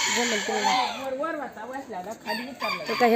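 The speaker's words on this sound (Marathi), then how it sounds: "कोंबड्या आहेत" A rooster crows nearby in a village with a long wavering call, followed by shorter cackling bursts, all loud and close with no talking.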